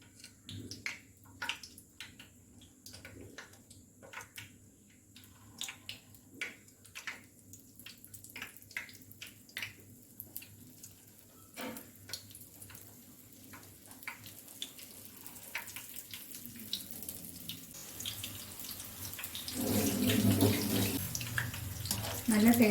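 Leftover dosa batter poured by hand into hot oil and frying, scattered popping crackles that thicken into a dense, louder sizzling hiss toward the end, close up.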